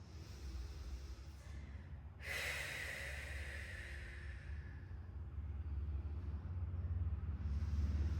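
A single slow, deep inhale taken during a senior Pilates floor exercise, close and airy, swelling for about three seconds before fading into a steady low background rumble, with no talking.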